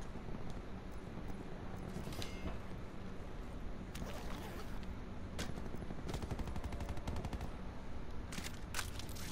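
Gunfire rattles in Call of Duty Blackout, quick automatic bursts and single cracks scattered across the span, some sharp and close, others softer in the distance, over a low steady background.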